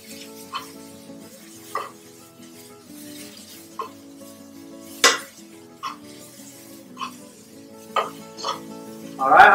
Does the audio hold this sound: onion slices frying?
yes